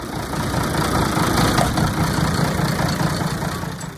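A Minneapolis-Moline G1000 tractor engine idles nearby, a loud, steady low rumble with a rough, knocking texture that holds for several seconds.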